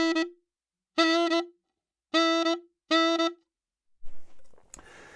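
Reed instrument playing a long-short articulated bebop figure, four bright sustained-then-clipped notes with pauses between, close and clear, ending with a short spell of noise.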